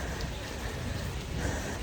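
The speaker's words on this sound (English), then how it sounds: "It's still raining" Steady rain falls on a city street in Zagreb, Croatia, a dense, even hiss of drops hitting the pavement close by, with no voices over it.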